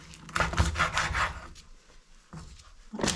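Knife cutting between chicken wing joints, a few short scraping, rubbing strokes close up, bunched at the start with a couple of quieter cuts after a pause.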